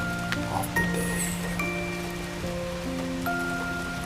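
Steady rain falls through the night, an even, continuous hiss under soft tonal background music.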